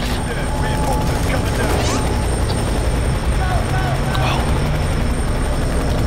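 A helicopter in the shooter game Fear 3 drones steadily throughout, mixed with occasional crashes and mechanical clatter, while voices talk over it.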